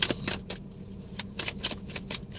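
Tarot cards shuffled by hand in a quiet room, a run of crisp riffling bursts and soft slaps repeating unevenly, fairly close and alone with no talk.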